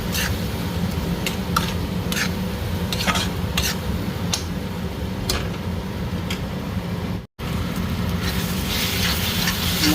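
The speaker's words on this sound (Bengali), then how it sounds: "মশলাটা ভালো করে ভেজে নেবো।" Ground spice masala of cumin and coriander powder fries in oil in a pan, a steady close sizzle punctuated by repeated sharp clinks and scrapes of a spoon stirring, with a brief dropout near the end.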